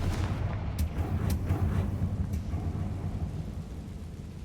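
Confringo blasting spell going off in the Hogwarts Legacy video game, a deep rumbling explosion that fades over several seconds, with faint sharp crackles near the start.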